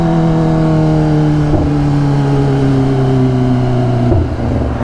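Kawasaki H2R supercharged motorcycle engine holding a loud, steady high rev close by, a sustained droning tone with strong harmonics that dips briefly before settling, no talking.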